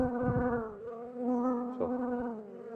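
Robber bees attack a weak hive, making a close, continuous buzzing drone that rises and falls slightly in pitch as individual bees pass near. There is no talking.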